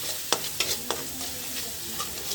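Spice paste of turmeric, salt, chili, garlic and cumin fries in oil in a pan for a rui fish and bean curry, a close sizzle broken by three or four sharp stirring scrapes.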